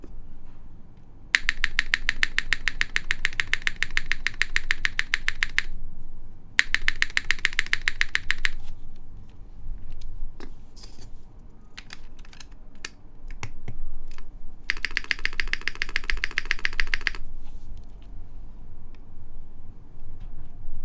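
Typing test on a Roze 65 mechanical keyboard fitted with a GMK spacebar: three bursts of rapid, close keystrokes with clacky spacebar hits, separated by short pauses with a few isolated key taps, no talking.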